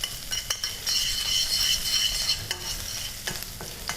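Ginger and garlic are tossed into a hot frying pan for pâté, giving a loud, steady sizzle close by, with utensils scraping and clinking against the pan in irregular strokes and no voices.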